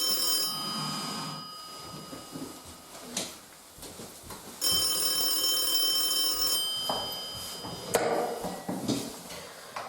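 A telephone rings repeatedly in bursts, fairly loud and close, with short gaps between the rings and no talking over it.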